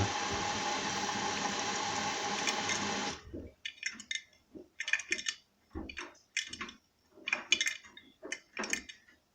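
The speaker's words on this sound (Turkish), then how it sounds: "Şimdi ana yıkama zamanı." Bosch Serie 6 washing machine starting its main wash with curtains inside: a loud rush of inflowing water for about three seconds, then irregular bursts of clicking, knocking drum and motor noise separated by short quiet gaps.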